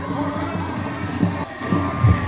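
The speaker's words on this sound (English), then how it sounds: "Now see the crowd loving it." A crowd cheers and shouts, with children's voices, at a blind cricket match as Pakistan's blind team chases 172. The roar is steady and broad, swelling in a few bursts near the end.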